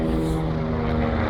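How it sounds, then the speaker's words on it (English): Rotor and engine drone of a helicopter flying over a residential hill road in Buckhurst Hill, Essex, a steady loud continuous hum with no talking. "Helicopter! Where is it? Can you see it?"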